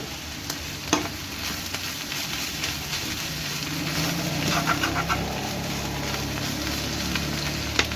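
Vegetables and shrimp frying in olive oil in a pan, with a steady close sizzle throughout and a few clatters of stirring.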